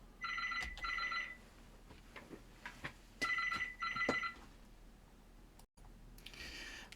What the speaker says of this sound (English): Apologies, the phone went.